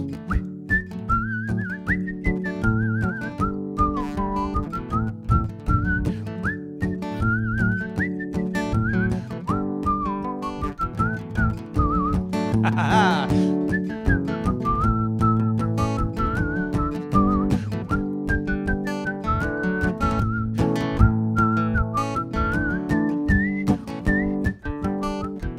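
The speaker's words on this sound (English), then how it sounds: "Okay, whistlers, give it to me now." Live crowd whistling along to a song at a loft concert, a sustained wavering melody carried over steady band accompaniment for the whole stretch, loud and continuous.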